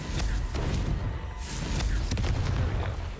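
A Confringo fire spell goes off in a video game as a series of deep, rumbling booming blasts that roll continuously for a few seconds, loud and close with no talking.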